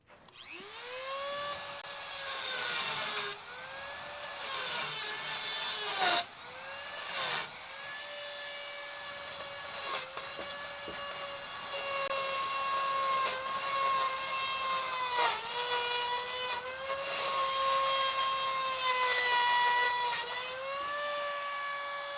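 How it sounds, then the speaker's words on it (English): A Dremel rotary tool cleaning debris from a Charger during a crew cab restoration, a high, steady whine that dips and recovers repeatedly as the bit loads and unloads, up close with no talk. "Give me the Dremel again. I'm just trying to clean all the crap out of there"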